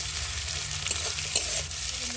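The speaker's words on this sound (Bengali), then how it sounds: "দিয়ে পেঁয়াজটা একটু ভালো করে ভেজে নেব।" Onions with green chillies frying in a pan, a continuous close sizzle with a few soft stirring scrapes, and no one speaking.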